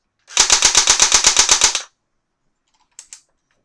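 Airsoft AK47 Kalashnikov rifle, part metal and part plastic, firing one full-auto burst of about a dozen rapid, evenly spaced shots, loud and close, followed after a pause by two quick faint clicks.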